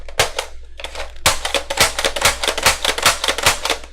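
A Strongarm/Disruptor toy blaster fitted with an Orange Mod Works classic system slam-firing, a fast run of sharp plastic clacks and spring thumps in a steady rhythm, close and loud with no talking.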